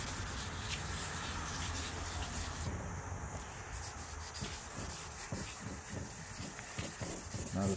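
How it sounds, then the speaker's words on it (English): Hand sanding with sandpaper, a continuous rough scratchy rubbing with repeated back-and-forth strokes, close and steady throughout, no talk. "Let's do more sandpaper."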